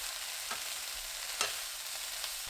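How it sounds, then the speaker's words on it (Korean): Shishito peppers stir-fried with soy sauce in a pan, a faint steady sizzle broken by a few quick scraping stirs, heard close with no voices. "꽈리고추 넣고 1분 30초 볶습니다. 진간장 3큰술, 국간장 1큰술 넣고 1분 볶은 뒤 불 꺼주세요."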